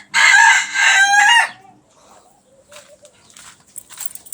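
A hen on a small backyard poultry farm gives loud, close clucking and squawking cries for about a second and a half, then softer scattered clucks and rustling follow.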